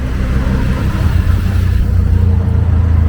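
A three-wheeled tuk-tuk in an Asian city, heard from inside: a loud, steady low engine rumble and road noise with a constant droning hum throughout.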